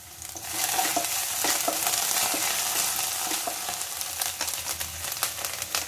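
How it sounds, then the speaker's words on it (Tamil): Ginger garlic paste frying with onions in a pan for a broccoli curry, a steady close sizzle with scattered scraping stir strokes, no talking. "இப்போ இதுல ginger garlic paste போட்டுடலாம்."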